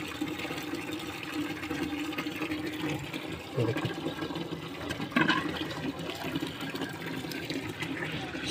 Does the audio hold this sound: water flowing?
yes